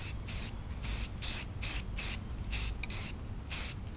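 A rattle can of spray paint hisses in repeated short bursts onto a Corvair tow bar adapter, roughly eight close, loud sprays with brief pauses between them and no talking.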